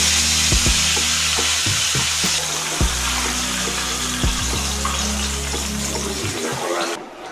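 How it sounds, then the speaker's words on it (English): Fish frying in hot oil in a pan, a loud continuous sizzle up close, with occasional knocks and stirring sounds, the hiss easing briefly near the end. "you have to fry it well so that it turns reddish brown"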